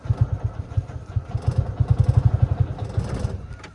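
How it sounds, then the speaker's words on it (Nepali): A TVS Duramax Plus BS6 auto-rickshaw engine with a starting and misfiring problem chugs in loud, uneven low thumps, pulsing faster as it is revved, then thins out as the engine falters. "म रेस लिन्छु है। ए बन्द भइगयो, फेरि स्टार्ट गर्छु।"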